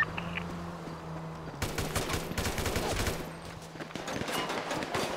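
Rapid automatic gunfire bursts in a GTA V NoPixel roleplay shootout, loud repeated volleys starting after a quiet second and continuing in clustered rattles, with no talking.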